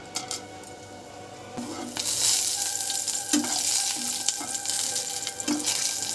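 Whole spices (cinnamon, three cardamom pods, two cloves) and halved dried red chillies frying in hot oil, a loud steady sizzle that swells midway, with periodic scraping knocks of a stirring spoon against the pan.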